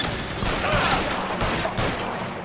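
A close, loud exchange of gunfire in the LA Noire video game, with several rapid shots in quick succession set against constant noisy background action.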